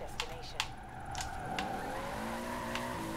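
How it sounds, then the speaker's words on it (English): Toyota Supra drifting in Forza Horizon 4, its engine holding a sweeping, rising tone and tires squealing through the slide, with a few sharp clicks along the way; moderately quiet overall. "So let's go into a drift."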